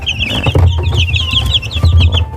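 Three-week-old silkie chicks cluck in a loud, busy chorus of short, rising peeps and chirps, close up, with low muffled thumps underneath.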